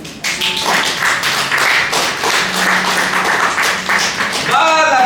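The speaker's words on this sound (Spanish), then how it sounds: "Den un aplauso a Cristo." A church congregation applauds through a sermon, a loud, continuous wash of many hands clapping for about five seconds. A musical tone enters near the end and a few voices are faintly audible beneath it.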